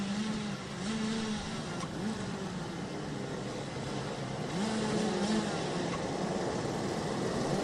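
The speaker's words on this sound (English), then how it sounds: "The revs do rise." DD2 racing karts lined up before a race start, their two-stroke engines droning and rising in revs as a dense, continuous mechanical buzz with a few audible pitch sweeps, steady and moderately loud throughout.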